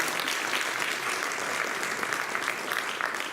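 An audience at a Guru Purnima celebration applauds warmly, a continuous dense patter of many hands clapping at an even level throughout.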